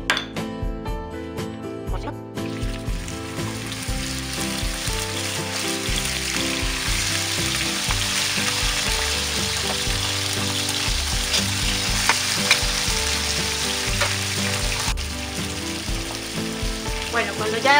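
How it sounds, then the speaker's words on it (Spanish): Pork tenderloin sears in a hot frying pan with a loud, continuous sizzle, occasional pan clinks and faint talk in the background. "Ahora lo voy a pasar por la sartén."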